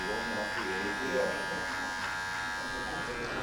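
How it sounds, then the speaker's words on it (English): A Magic Clip hair clipper buzzes steadily and close up while trimming and lining a beard in a barbershop, a constant electric whine with no pauses. "I also like to use the magic clip to set the line for the beard."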